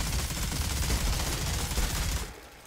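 A Gatling gun firing in the shooter game Outriders: a dense, continuous roar of rapid shots, loud and close, cutting off sharply near the end, with no talking.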